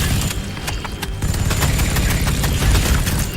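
Land speeders firing on plague bearers in the Warhammer 40,000: Sanctus Reach video game: rapid bursts of gunfire and booms pile into a dense, continuous battle racket with no talk over it.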